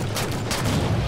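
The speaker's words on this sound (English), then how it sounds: "His DMR sounds cool" Rapid DMR rifle fire from Halo 4 in The Master Chief Collection, a dense run of close, punchy shots with low booming tails filling the whole moment.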